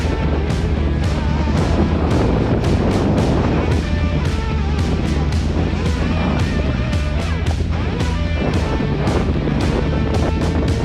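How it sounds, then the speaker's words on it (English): Loud, steady wind buffets the microphone while cycling in Taiwan, a constant roar with repeated gusty thumps and rumble. "It's windy!"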